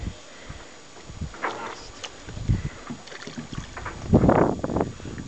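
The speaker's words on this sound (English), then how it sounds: "Oh, the wind's picked up" Wind gusting around a small boat on open water in the Whitsunday Islands, a steady rushing with stronger buffeting surges and some water sloshing, loudest near the end.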